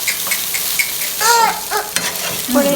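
Noodles frying and being stirred in a pan, a steady close sizzle with scraping strokes of the utensil throughout, no talk.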